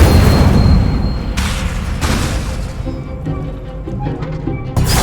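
Incendio fire spell cast in Hogwarts Legacy, a loud burst of booming, crackling flame that opens the clip, followed by further whooshing bursts and lighter clattering game effects.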